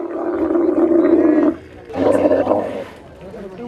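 A camel at Giza lets out two deep, throaty growling roars close by, the first long and sustained, the second shorter after a brief pause, then a quieter low grumble.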